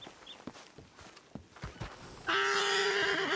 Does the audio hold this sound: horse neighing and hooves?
yes